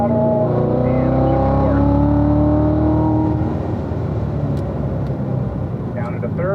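A race car engine accelerates hard down a straight on the track at Ron Fellows Performance Driving School. Its loud, close tone climbs steadily in pitch before leveling into a rough roar, while an instructor talks over it.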